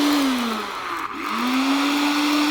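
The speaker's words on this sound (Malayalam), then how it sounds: "ഇത് നമുക്ക് ഈ മിക്സി വർക്ക് ചെയ്യാൻ നോക്കട്ടെ" A kitchen mixer grinder blends a guava shake with milk, its motor whirring loud and steady, briefly dipping in pitch midway before spinning back up to full speed.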